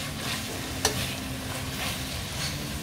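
Tomato masala for a Kerala-style surmai fish curry sizzles steadily in a pan while a spoon stirs through it, with one sharp scrape of the utensil; close and moderately quiet, no talking.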